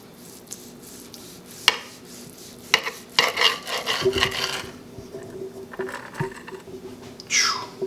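A knife works through a crusty rotisserie pork loin cooked on a Kamado Joe grill, giving a run of scraping, rasping strokes and faint crackles that grow busier partway through.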